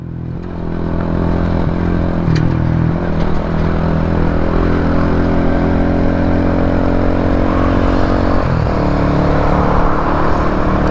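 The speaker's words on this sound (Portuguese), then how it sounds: "Ouve o ronco." A Shineray Worker 125 motorcycle engine runs loud and close with its original exhaust, holding a steady droning rumble for several seconds and briefly dipping near the end.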